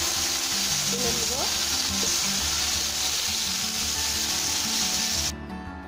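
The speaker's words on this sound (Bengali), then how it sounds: "এভাবে নিচে একসাথে আস্তে করে ভেজে নেব।" Fish pieces frying in hot oil in a pan while cooking a bitter gourd, potato and fish curry, giving a steady, loud, continuous sizzle with faint scraping, cutting off abruptly near the end.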